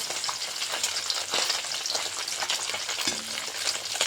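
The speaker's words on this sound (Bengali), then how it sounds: "মাছটাকে এবারে তুলতে ভালো করে ভেজে দিতে হবে" Fish fries in hot oil with a dense, loud crackle and hiss. The spatter continues unbroken, close to the pan, with a soft clatter partway through.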